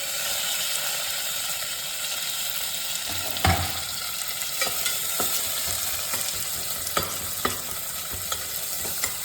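Mint and curry leaves sauté in a hot pan with a steady oily sizzle. A spatula clicks and scrapes against the metal several times, up close and with no talking.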